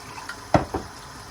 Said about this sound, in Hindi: अब 2 कप इसमें पानी के शामिल करेंगे